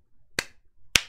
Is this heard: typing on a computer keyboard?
no